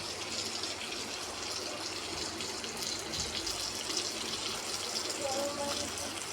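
Chicken leg pieces with garam masala frying in a pan for lemon chicken, giving a steady, continuous sizzle that holds evenly at close range throughout.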